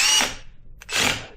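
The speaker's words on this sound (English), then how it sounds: "I have this drill set on very low torque, and I'm just going to take these little short 1/4 inch screws and screw them in" A power drill on low torque drives short 1/4 inch screws into a rat bait station, with two loud close whirring bursts separated by a brief pause and a small click.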